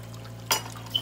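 Half and half poured into a pan while cooking cheesy herb roasted potatoes, a short soft liquid splash lasting about half a second over a steady low hum, with a faint clink just after.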